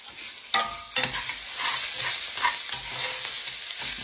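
Potatoes thickening in a pot are stirred steadily, giving a continuous close scraping and bubbling hiss with a couple of sharper knocks early on; no one speaks.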